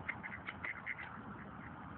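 A duck quacks in a quick run of about five short, faint nasal calls near reeds, with quiet background sound and no talk.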